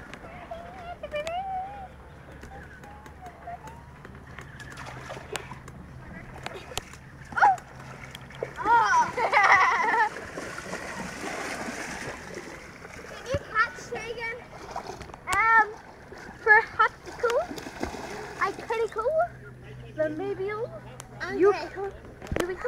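Water splashes at a river in scattered bursts, close and fairly loud, mixed with children's voices and chatter throughout.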